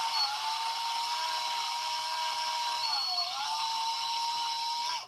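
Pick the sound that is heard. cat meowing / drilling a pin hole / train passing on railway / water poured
drilling a pin hole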